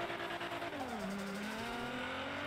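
A car engine in GTA 5 revs steadily and rises in pitch, with faint tire noise under the drone and no talk.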